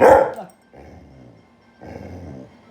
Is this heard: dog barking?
yes